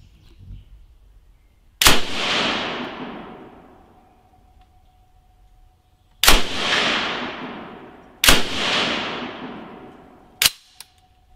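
An MG 53 machine gun fires four separate single shots, sharp and loud, each followed by a long reverberating rumble that fades over a couple of seconds, the last shot coming sooner after the one before.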